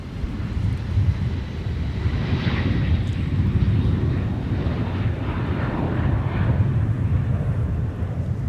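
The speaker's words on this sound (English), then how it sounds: "Looks like our Gulfstream is almost about ready to go here on 12 right" Gulfstream business jet taking off from runway 12 right at Minneapolis–St. Paul Airport, a steady, distant low roar of jet engines with wind noise across the microphone, held at an even level throughout.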